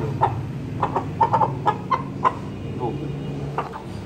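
An Aseel rooster clucks in a run of short, repeated calls, fairly close, over a low steady background hum.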